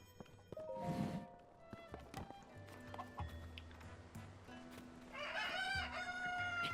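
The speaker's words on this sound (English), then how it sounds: "Hey, chickens, where are you hiding your eggs?" Chickens in the video game Zelda: Tears of the Kingdom cluck, then give a loud crowing call near the end, with clip-clop hoof steps and other game ambience around them; no talking.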